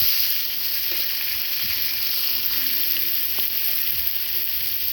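Potatoes are dropped into a pan of hot oil with chopped onion for a ghugni-style curry, producing a loud, steady, close frying sizzle that fills the whole stretch without pause and with no talking over it.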